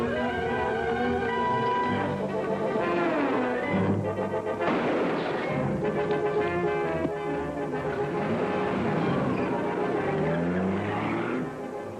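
An old 1940s film-serial scene of a car speeding off from an alley, a loud engine roaring with screeching tire squeals and skids, set under a dense, busy dramatic music score.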